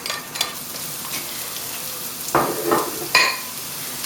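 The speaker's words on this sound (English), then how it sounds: "So we put a small amount of olive oil into the pan and wait until that gets hot. Add in the onions" Onions hitting hot olive oil in a pan, a constant close hissing sizzle broken by a few sharper clatters and scrapes of a utensil against the pan.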